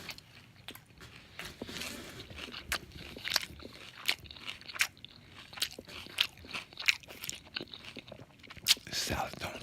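Chicken salad is eaten close to the microphone, with steady wet chewing broken by frequent sharp crunches and bites that keep going throughout.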